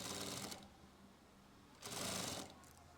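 A sewing machine stitches a zipper onto bell-bottom pants in two short bursts of rapid, whirring needle clatter, close and fairly quiet, with a softer pause between them.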